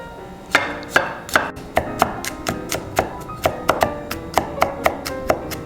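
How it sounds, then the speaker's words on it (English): A knife mincing garlic on a cutting board for creamy mashed potatoes, with close, loud, steady chops of roughly two or three per second and no talking. "Now we're going to mince the garlic."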